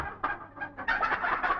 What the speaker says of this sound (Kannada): ಒಳ್ಳೆ ಮೊಟ್ಟೆ ಕೋಳಿ, ತಡ್ಕೊಳ್ಳಾರ್ದೆ ತಡಬಡಾಯಿಸ್ತಾ ಇದೆ